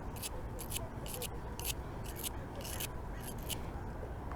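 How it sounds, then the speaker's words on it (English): A wire brush scrubs butyl tape residue off screw threads in rhythmic strokes: about eight quick bursts of scratching, close and steady over low background rumble. "So I'm going to wire brush the threads because I got butyl tape all over them."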